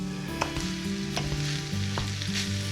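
Pork sisig with chilies sizzles steadily in a hot pan, a continuous bright crackling hiss broken by a few sharp pops and stirring clicks, close and fairly loud with no talking.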